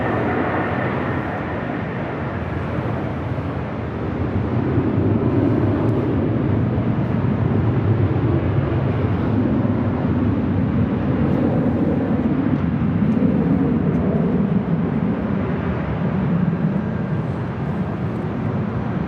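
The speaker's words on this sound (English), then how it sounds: "Followed by Southwest Airlines Flight 4375 heading to Phoenix on a 737 MAX 8." A Southwest Airlines Boeing 737 MAX 8 departs LAX for Phoenix as a steady, broad jet roar that swells slightly and holds for many seconds at moderate distance, with no voices.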